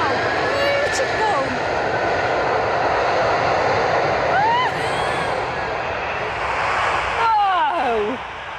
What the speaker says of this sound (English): it's catching a lift on the strangest looking aeroplane you will ever see.